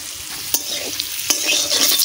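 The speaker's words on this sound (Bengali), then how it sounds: "একদম লাল লাল করে সুন্দর করে আলু ভাজা করে দিচ্ছি" Potatoes frying in hot oil in a pan, a steady close crackling sizzle with a few sharp scrapes of stirring, no voices.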